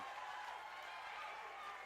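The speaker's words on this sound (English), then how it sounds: "Crowd appreciating that one." A crowd at a volleyball match between Alaska and Alaska Anchorage applauds and cheers, a faint, steady roar from the arena heard from a distance.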